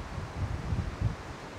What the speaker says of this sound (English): I'm gonna have a hard time filming back here because it's so windy